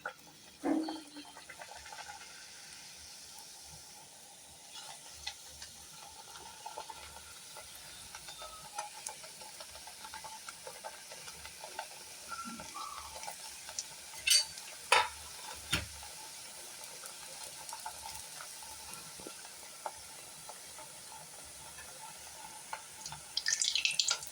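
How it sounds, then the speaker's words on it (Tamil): Potato smiley snacks frying one by one in moderately hot oil in a kadai, a faint steady sizzle with occasional louder crackles and stirring clatters, no talking. "மிதமான சூட்டில் ஒன்று ஒன்றா போட்டு நம்ம பொரிச்சிடலாம்."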